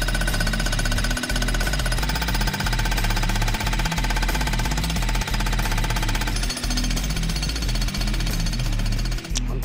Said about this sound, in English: I can jackhammer that slab out.